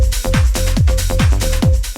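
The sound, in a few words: DJ techno transition with low-pass filter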